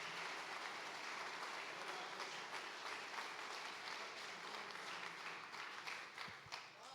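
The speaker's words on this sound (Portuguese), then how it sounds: "Vamos aplaudir Jesus com bastante alegria nessa noite" A congregation at a family worship service in church claps and applauds together, a broad, sustained wash of many hands at an even level that softens slightly near the end.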